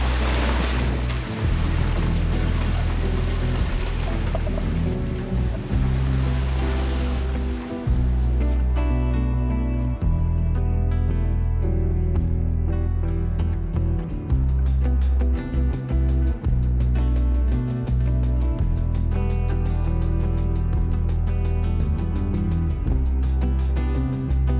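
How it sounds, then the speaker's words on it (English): A sailboat runs under motor with its sail down between the British and US Virgin Islands, its steady low engine drone and rumble heard alongside continuous wash of waves and wind noise. "Just pulled down the sail, turned the motor on."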